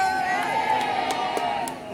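A crowd cheers and whoops at a Ford Fair stunt show, a sustained mass of voices with scattered louder shouts, steady and fairly loud throughout.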